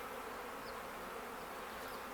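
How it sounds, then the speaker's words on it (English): Honeybees in an open apiary hive during an inspection, a dense, continuous agitated buzzing from many insects close by, faint and steady with no voices. "The bees are kind of frantic."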